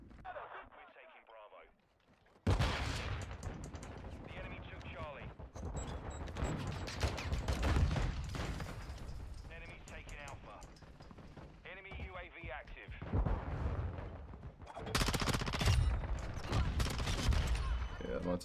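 Call of Duty MW2 multiplayer with dense rapid gunfire and bursts of shots running almost throughout, loud and close, with a grenade thrown during the fighting and a voice talking over the action.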